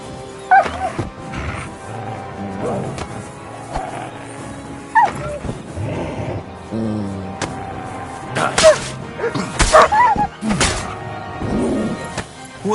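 Dog Mutt in the video game Kingdom Come Deliverance 2, barking in sharp repeated yips and whimpers, close and loud, with a voice speaking between the barks.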